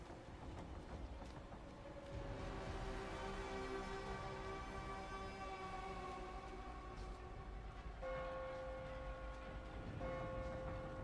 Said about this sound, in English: Oh yeah, the church bell rings.